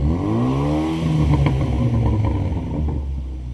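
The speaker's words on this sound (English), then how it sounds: "Rev it up." Hyundai Veloster engine with its exhaust cut off, revving loudly and steadily up close, a rough droning tone rising and holding with no talk.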